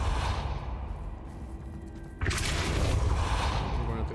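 A Depulso force spell cast in Hogwarts Legacy lands as one sudden, loud burst with a whoosh, then a dense, rumbling wash of magical impact that carries on underneath.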